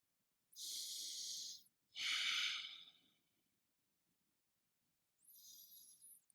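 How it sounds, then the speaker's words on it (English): Deep breathing during a yoga session, two long audible breaths close to the mic followed by a pause and a softer third breath. "Taking a breath."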